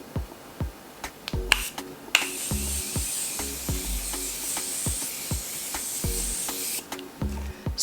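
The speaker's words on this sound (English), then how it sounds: "I'm gonna use the Morphe Continuous Setting Spray." Morphe Continuous Setting Spray hisses in several sharp, close bursts onto a face, one long continuous mist in the middle, punctuated by crisp clicks of the pump nozzle.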